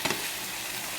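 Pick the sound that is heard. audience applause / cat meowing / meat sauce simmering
meat sauce simmering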